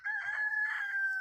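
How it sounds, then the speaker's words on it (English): A chicken gives one short, bright, sustained call, close and fairly quiet, alone without talk. "Chicken over here clowning."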